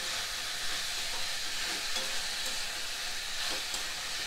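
Vegetables frying with garam masala and tomato in a pan while being stirred, a steady bright sizzle with soft scraping stir strokes throughout, no talk.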